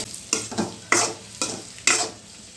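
Eggs for garlic egg roast frying in oil and being stirred, with four or five sharp scraping strokes at a steady rhythm over a low background sizzle; close and fairly loud, no voices.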